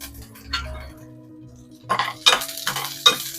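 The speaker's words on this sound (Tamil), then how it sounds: "வெங்காயம் கொஞ்சம் கலர் மாதிரி வரட்டும், இந்த பூண்டு கொஞ்சம் பொரிஞ்சு வரட்டும்" Onion, garlic and curry leaves cooking in a pan for a capsicum and beans kootu, with a few bursts of utensil scraping and stirring clinks over a soft background sizzle.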